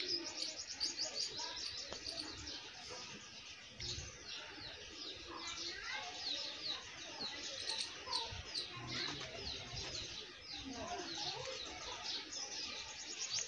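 Pigeons arriving during a village pigeon-flying contest, faint cooing and chirping calls with occasional wing flaps over a steady outdoor background, distant and low in level.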